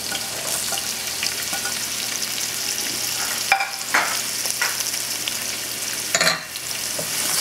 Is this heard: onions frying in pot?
yes